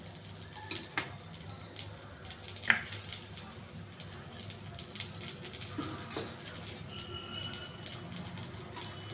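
Chana dal and cumin seeds frying in a pan, a soft sizzle under scattered clicks and light taps from stirring, close but fairly quiet, with no one speaking.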